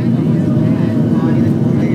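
An airliner's engines climbing during a go-around on approach to Oakland, a loud, steady low drone that fills the whole moment without letting up.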